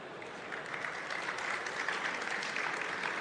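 An audience gives sustained applause for the winner of the My Data Is Mine Award 2023, a steady wash of clapping at moderate level with no break.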